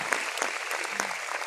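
Audience applause at the Avloniy film premiere and opening ceremony, a steady dense clapping from a large crowd filling the whole moment, fairly close and even in loudness with no speech over it.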